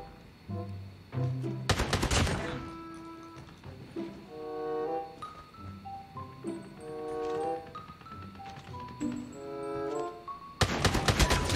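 A Striker shotgun fitted with a new attachment fires in a video game: two loud, sharp blasts several seconds apart, one near the start and one at the end, with busy tonal game sounds and beeps between them.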